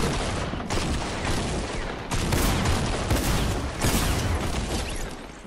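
Gunfire rattles through a video game match in a continuous, loud stream of rapid shots and explosions that barely lets up.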